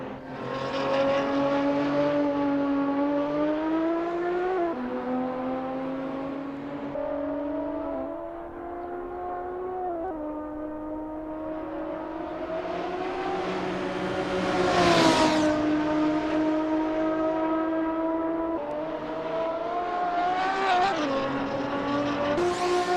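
Race car engines rev in a sim racing game at the Nurburgring GP during the pre-race warm-up, a steady close drone whose pitch climbs and dips, with a sharp surge mid-way and no talking.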